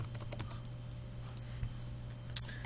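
Bank account details are typed on a computer keyboard as soft, close key clicks in irregular bursts, alone over a low steady hum.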